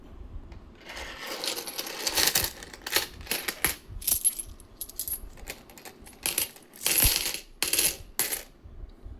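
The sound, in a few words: Begum Akhtar five rupee coins clinking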